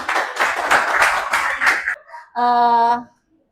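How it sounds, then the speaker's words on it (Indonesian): Brief burst of clapping from a class or church group for a participant named Yobel, lasting about two seconds before a short pause and a sustained tonal sound. "Kasih tepuk tangan buat Yobel"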